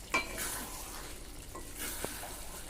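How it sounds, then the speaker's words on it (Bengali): Spice masala for a Punjabi-style chicken curry being stirred and sautéed in a pan, with a soft steady sizzle and a few scraping stir strokes against the metal, close and fairly quiet, no talking. "আবারও মশলাটাকে সময় ধরে কষাতে হবে।"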